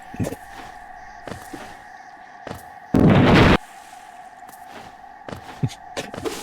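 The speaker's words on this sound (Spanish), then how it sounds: "Explosión." A single explosion in the Hollow Knight video game lands as a short, loud, broadband burst in the middle, standing out over quieter game sounds and music.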